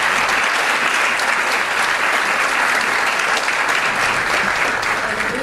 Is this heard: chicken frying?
no